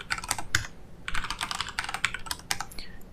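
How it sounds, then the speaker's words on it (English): A password being typed on a computer keyboard, with quick irregular clusters of light key clicks and short pauses, close and quiet, with no talking. "And the password, let's type in a strong password."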